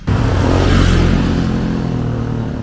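A vehicle roars close by, loud and broadband, then slowly fades as it passes down a road in San Juan, Philippines.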